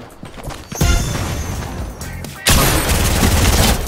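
Gunfire in Fortnite erupts in loud bursts, a dense volley near the one-second mark and another heavy barrage after the midpoint, with mechanical clatter in between.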